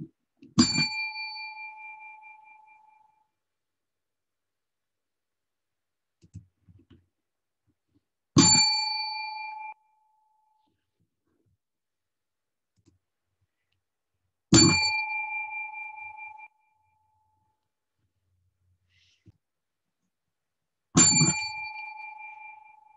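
A bell rings four times at slow, evenly spaced intervals, each a bright clear ding that rings out and fades over a couple of seconds, with quiet gaps between strikes.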